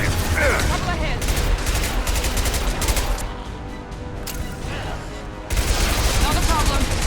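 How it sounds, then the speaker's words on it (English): Dense gunfire from a Mass Effect 2 firefight on Insanity difficulty, with rapid overlapping shots and booms that continue loudly throughout, thin out briefly midway, then surge again. Voices are heard in the fray. "Taking fire! Couple ahead."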